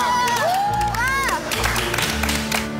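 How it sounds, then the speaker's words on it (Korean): A television variety-show studio audience claps and cheers together, the crowd noise sustained and fairly loud throughout, with excited voices and whoops rising over the applause. "박수 한번 칩시다."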